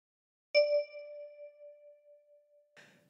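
One bright ringing note from a 10-key kalimba, plucked by thumb, decaying slowly and quietly alone before a soft second touch near the end.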